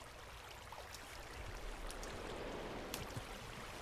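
Water in Minecraft flows and drains steadily as dispensers pull it back, a continuous rushing, trickling wash at moderate level with a few faint clicks.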